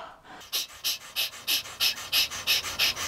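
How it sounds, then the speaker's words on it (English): Heavy, rhythmic breathing inside an enclosed air-filtering helmet, done deliberately to fog the visor: about a dozen loud, close, hissing exhales in a steady, rapid pant with short gaps between them. "I'm gonna make myself pass out by breathing so hard."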